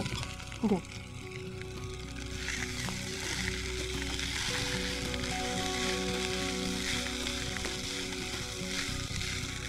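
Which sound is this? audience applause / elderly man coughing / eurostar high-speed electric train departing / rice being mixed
rice being mixed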